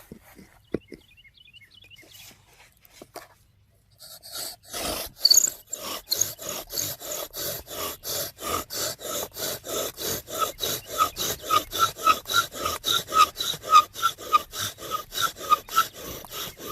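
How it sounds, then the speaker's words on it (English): A wooden spindle is driven into a wooden fire board to make fire by friction, the spindle pressed down with a rock, giving a rhythmic rasping rub that starts after a few quiet seconds and grows louder and steadier. "So put the spindle in the hole of the board and the rock just on top."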